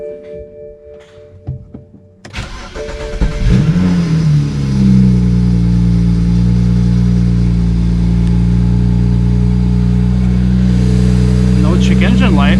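A BMW 335 with the N54 engine cranks and fires up, rising in a quick rev and then settling into a loud, steady idle close by. Brief handling noises come before the start.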